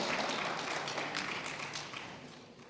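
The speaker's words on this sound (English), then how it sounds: "Round of applause, round of applause. Let's make her feel welcome." An audience at the Ghana Economic Forum applauds to welcome a panelist, a dense patter of clapping heard from within the room that gradually tapers off.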